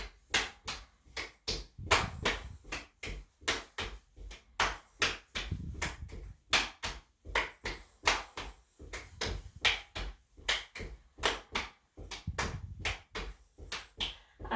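Steady sharp hand claps during a seated chair workout for fall prevention, close and crisp, repeating in even rhythmic groups for over fourteen seconds with no talk.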